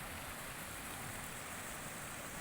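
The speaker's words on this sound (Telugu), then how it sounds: "ఇగో ఇక్కడ ఇదంతా వాటరు ఇక అక్కడి నుంచి వస్తుంది" Water running down from a hill into a pond embankment, a faint, steady broadband rush of flowing water with no breaks and no voices.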